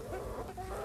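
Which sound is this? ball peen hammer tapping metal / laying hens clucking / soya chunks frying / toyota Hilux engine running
laying hens clucking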